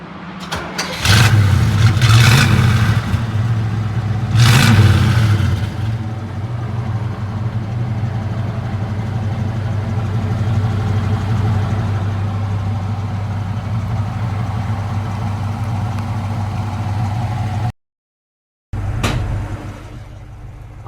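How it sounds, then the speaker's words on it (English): A 1967 Chevrolet Chevelle SS 396 V8 cranks and fires with two loud bursts, then settles into a steady, deep, rumbling idle close by, with a brief drop-out near the end. "It's going to start it up for us. We'll see how it sounds."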